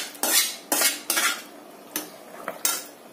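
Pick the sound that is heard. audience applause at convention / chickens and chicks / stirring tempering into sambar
stirring tempering into sambar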